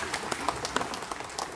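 A church congregation claps during a Sunday worship service, a short, loosely rhythmic burst of hand claps with some voices mixed underneath.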